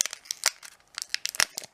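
A Pokémon booster pack being torn open, with crisp crinkling and ripping foil wrapper sounds in quick irregular bursts, close and fairly loud.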